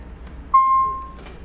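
A single steady electronic door warning chime rings out clearly for under a second in a quiet Tesla Roadster interior, then fades.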